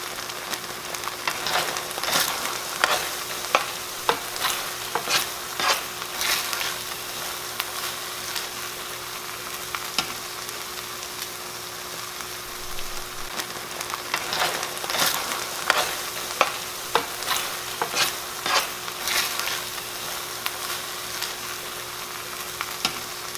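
A steak and cabbage stir fry cooks in a pan with a steady, close sizzle, broken by repeated sharp clicks and scrapes of stirring throughout.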